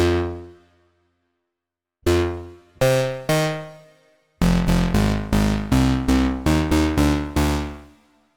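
Bright, harmonically rich additive synthesizer notes with hall reverb and a low cut play, first a few isolated hits with gaps of silence, then a quick run of rhythmic plucked-sounding notes.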